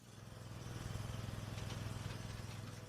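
A homemade chainsaw-based firewood cutting and splitting machine runs with a steady, pulsing two-stroke engine drone, moderately distant and rising slightly in intensity with no voices.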